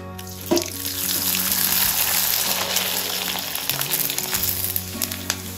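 Finger-millet (nachani) papad fries in hot oil in a wok, giving a loud, close sizzle with bubbling crackle and a few sharper pops, continuous from start to end.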